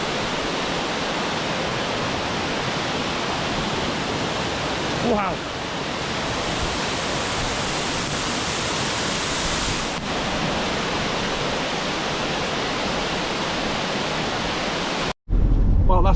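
Heavy waterfall on the NC500 route in the Scottish Highlands, swollen with rain, roaring as a steady broadband rush throughout, with a brief exclaimed word near the start and a sudden cutoff at the end.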